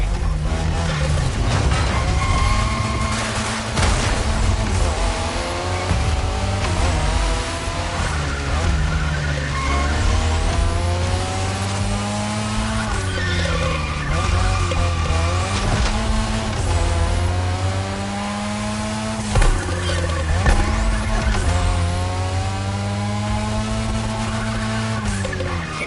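A drift car in The Crew video game revs hard with sweeping engine pitch changes and continuous tire skidding and squeal, loud and close throughout, with game dialogue heard over it.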